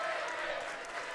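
Crowd noise rises at a girls' basketball game against Ezell Harding, a steady roar of cheering and clapping heard under a commentator's voice.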